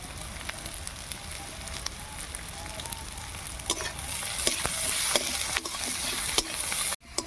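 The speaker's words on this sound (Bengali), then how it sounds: "পেঁয়াজ লঙ্কা ভাজা হয়ে গেছে" Onion and green chilli fry in oil in a kadai for a peanut chutney, a steady sizzle with scattered scraping stirs and small pops, close up and with no talking.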